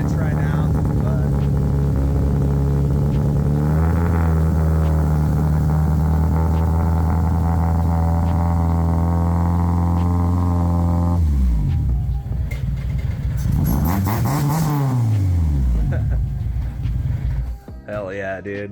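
A Honda Civic engine running rich as the car backs up, a steady low rumble with a strong, continuous drone that shifts pitch partway through as the engine revs up and settles, loud and close, with no talking over it.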